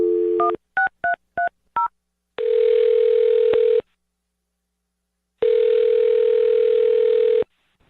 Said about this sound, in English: I'm going to dial his phone number right now then and see if we can get your answer.